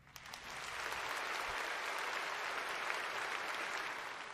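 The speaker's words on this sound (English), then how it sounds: "Round of applause." A crowd claps steadily for several seconds, a dense wash of applause that starts quickly and holds at an even level.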